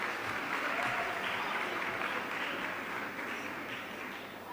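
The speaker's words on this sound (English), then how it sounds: "A round of applause for him." Audience applause at a hotel summit for the first contest finalist, a soft, even patter of many hands that holds for several seconds and slowly fades, heard from a distance.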